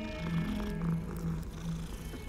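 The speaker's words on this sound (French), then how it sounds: "des câlins, le chat ronronne" Close, soft cat purring in Hogwarts Legacy, a continuous low pulsing rumble.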